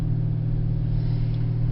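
2016 Dodge Challenger R/T Shaker V8 growling steadily at low revs from inside the cabin, a constant deep rumble with no talking.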